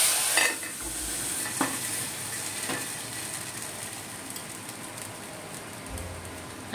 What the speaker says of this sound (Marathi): आता डाळ टाकून फोडणी द्यायची आहे।